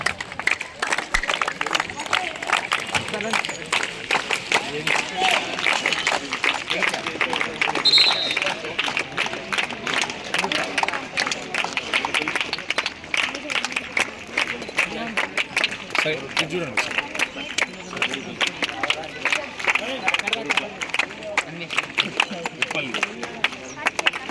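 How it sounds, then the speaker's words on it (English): Crowd applause at a kho kho tournament final between the Jagtial and Peddapalli districts: dense, steady clapping continues for the whole stretch, with a lively outdoor crowd and voices mixed in. "Clap."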